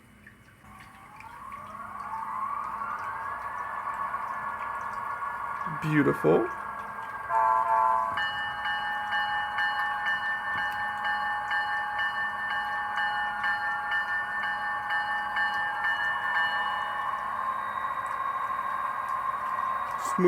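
A Bachmann GP35 HO scale model locomotive with a DCC sound decoder runs steadily, its engine drone and whine ramping up and holding, with a horn-like blast partway through and a brief spoken word.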